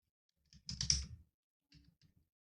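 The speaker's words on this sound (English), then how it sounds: "here type Tailwind CSS" Fingers type on a computer keyboard, a short quick burst of clustered key clicks followed by a few lighter taps after a pause, close and quiet.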